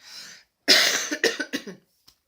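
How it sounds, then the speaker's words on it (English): A few close coughs: one short hoarse cough, a pause, then a louder burst followed by several quick harsh coughs, ending with a faint tiny click. "I'm going to cough again."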